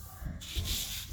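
Folded paper being pressed flat by hand, a brief close dry rubbing and scraping of palm over the paper surface, swelling slightly midway through the short stroke.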